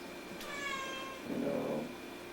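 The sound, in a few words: cat meowing during a satsang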